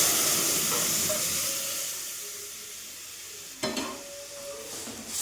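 Cooked masoor lentil dal poured into a pan of fried onions, a steady broad sizzle and hiss throughout, with a sudden louder burst of sizzling near the end as the dal hits the hot oil.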